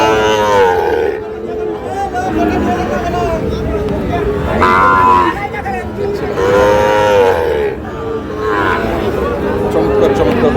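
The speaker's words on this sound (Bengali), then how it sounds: "চমৎকার চমৎকার বাছুর গরু দেখছি আজকে আমরা আমবাড়িহাটে" Sahiwal calves and cattle moo repeatedly at a busy cattle market in Dinajpur, long loud bellows rising and falling one after another over a bed of crowd chatter.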